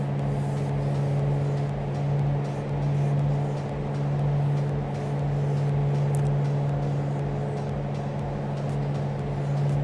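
A Mooney M20 Ovation's propeller engine drones steadily at cruise RPM in Microsoft Flight Simulator 2020, a constant low hum with a strong tonal buzz and no pauses, heard from inside the cockpit.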